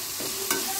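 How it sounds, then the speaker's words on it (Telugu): Brinjal and green chillies being stirred in a hot pan with a faint sizzle underneath; one sharp scrape of the spoon stands out in a short, steady stretch of frying. "వంకాయలు, మిర్చి అన్నీ మగ్గేటట్టుగా కలుపుకుంటూ"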